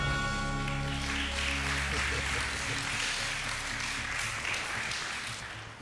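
Applause from a game-show studio audience, steady clapping sustained throughout, reportedly only the men clapping, with a voice speaking over it.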